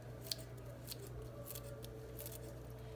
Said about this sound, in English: I'm just snipping that off with scissors